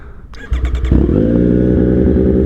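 Street Triple 765 RS motorcycle starting up: a brief whirring starter crank, then the engine catches and settles into a loud, steady, throaty idle close by.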